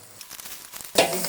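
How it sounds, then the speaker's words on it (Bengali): Fish frying in oil in a pan gives a soft, crackling sizzle that jumps noticeably louder near the end. "এভাবে আমি সব মাছগুলো ভেজে নিব"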